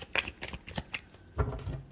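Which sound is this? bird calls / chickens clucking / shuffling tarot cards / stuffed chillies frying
shuffling tarot cards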